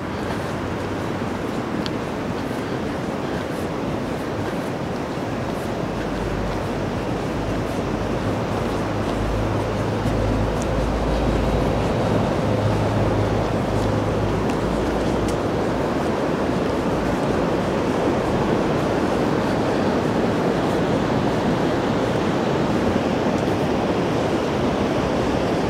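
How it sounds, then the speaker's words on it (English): The River Ruhr in Germany, running wide and high, flows with a steady, continuous broadband rush seen from a bridge, with low wind rumble mixed in and no voices. "You see, this is the River Ruhr."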